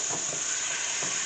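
Chicken for fajitas frying in oil in a pan gives off a steady, close hiss and sizzle with faint stirring clatter.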